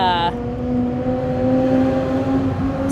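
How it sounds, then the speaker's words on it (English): A bus passes close by outdoors, its broad engine rumble and steady low drone holding for a few seconds after a brief voice at the start. "Just wanted to let a bus go by."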